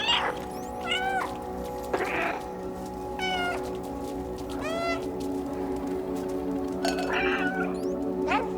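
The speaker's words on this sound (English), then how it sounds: "that was definitely a cat" A cat meows several times in Final Fantasy XV, each call a short rising-falling mew spread across the clip over steady game ambience and music, with no talking.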